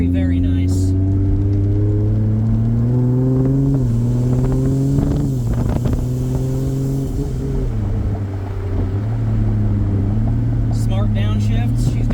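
Nissan S14 fitted with a 2JZ engine and 8HP70 automatic gearbox accelerating, heard from inside the cabin as a loud, steady engine drone whose pitch climbs and then drops at several gear shifts.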